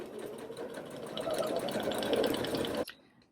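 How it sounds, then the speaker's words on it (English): A sewing machine runs a row of gathering stitches on a small doll dress, a steady fast whirring rattle that speeds up slightly and then stops abruptly, followed by a brief quiet click. "And then I'll sew my second row of gathering stitches."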